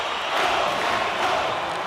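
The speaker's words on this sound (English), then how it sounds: "You can feel the energy in this crowd." A crowd at a high school hockey game keeps up a steady roar of cheering and noise, with swells of louder excitement, and no clear single voice standing out.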